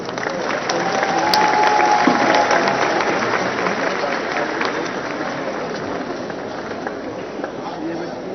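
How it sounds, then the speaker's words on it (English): A festival crowd at Kisama claps for a cultural troupe at the Hornbill Festival, a broad, steady wash of applause that swells early and holds through the clip, with faint voices underneath. "Shall we give them a big round of applause?"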